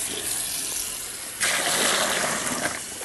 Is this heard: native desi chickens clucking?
no